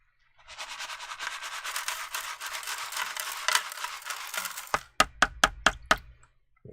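Gold paydirt is swirled with a grainy rasp in a pan for several seconds, then the pan is tapped five times in quick, sharp, evenly spaced knocks.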